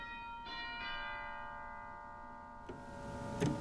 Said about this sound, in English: And we have chimes